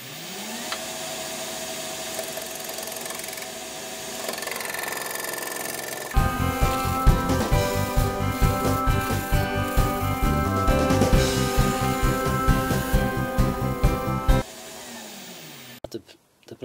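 A wood lathe spins a box blank while a tenon is turned on its end. Quiet motor hum first, then a loud, rough, rhythmic cutting chatter for about eight seconds before the tool pulls away and things quiet down.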